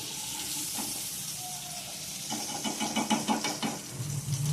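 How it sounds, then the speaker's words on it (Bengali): Prawns fry in hot oil with a soft, continuous sizzle and hiss, some bubbling crackle building in the second half, heard up close and quiet without any talking. "এইভাবে আমি সব মাছগুলোই ভেজে নেব"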